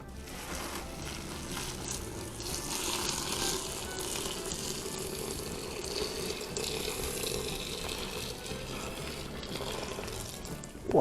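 Hot water is poured from a tap or kettle while making floral mead, a steady close rush and splash of liquid that holds at an even level for several seconds, ending with a brief louder bump.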